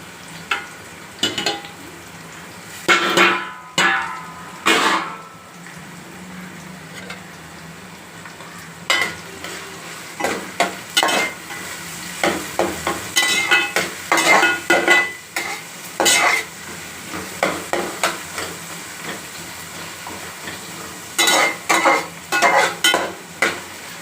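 Onions, green chilli and curry leaves frying in a pan for mutton gravy, a soft continuous sizzle broken by repeated rhythmic stirring scrapes and clinks of a metal spoon.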